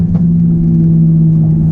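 Loud, steady engine drone from a 450 hp 2017 Ford Focus RS taking a bend, a low constant note heard up close from inside the car with no voices.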